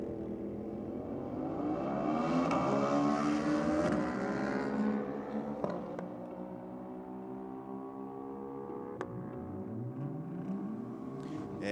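Ducati Diavel motorcycle on a drag strip run at Sydney Dragway, engine revving hard through rising, shifting gears, loud at first, then easing and fading as it pulls away.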